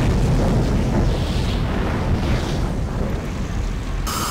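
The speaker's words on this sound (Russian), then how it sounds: "Вот это сейчас будет эпик взрыв." A loud explosion rumbles in Garry's Mod, a dense, sustained roar of low noise that fills the whole span with little decay, ending with a brief brighter burst.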